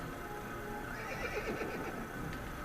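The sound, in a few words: horse neighing in Assassin's Creed video game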